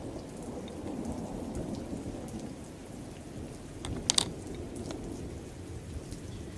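Steady rain falls in a continuous hiss with low thunder rolling underneath and one sharp crackle near the end, a rainstorm sound effect heard alone without voices.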